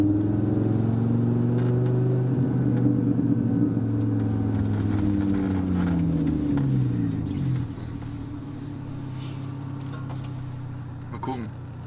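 A 670 hp Audi RS3 sedan pulls uphill, its engine a loud, steady droning roar whose pitch rises and sweeps through revs before easing into a lower, calmer note near the end.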